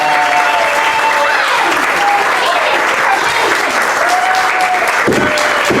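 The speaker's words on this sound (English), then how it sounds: "Hear that applause, let me tell you." A theater audience at a staged tribute show gives sustained, dense applause that fills the room at a steady loud level, with a few whistles and voices rising faintly within it.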